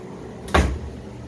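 A single quick slide and bump of a storage drawer in an 18-foot Airstream trailer being renovated with tool-chest shelving, close and fairly loud against a quiet room.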